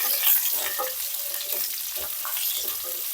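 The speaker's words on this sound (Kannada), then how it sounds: "ಒಂದು ಕಟ್ ಮಾಡಿರುವಂತಹ ಈರುಳ್ಳಿನ ಹಾಕೊಂಡು ಚೆನ್ನಾಗಿ ಫ್ರೈ ಮಾಡ್ಕೊಳ್ಳೋಣ" Chillies, curry leaves, garlic and sliced onion frying in a pan for tomato chutney, giving a close, continuous crackling sizzle with light stirring scrapes throughout, no talk.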